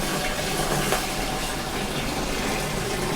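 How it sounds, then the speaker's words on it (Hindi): Water poured into a small pump under test, a steady broadband splashing and trickling wash that runs continuously at moderate level, with no talk over it. "पानी को इसमें ऐड कर रहा हूँ"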